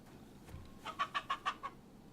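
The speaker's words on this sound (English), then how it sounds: "What a variety of chickens." Chickens on a farm in the video game Kingdom Come: Deliverance II give a quick run of five or six clucks, evenly spaced and fairly faint, with no talk.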